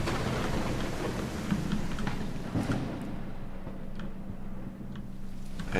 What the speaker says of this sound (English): You can see the raindrops on the thing.